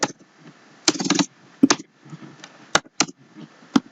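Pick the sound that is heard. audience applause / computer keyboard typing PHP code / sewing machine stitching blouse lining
computer keyboard typing PHP code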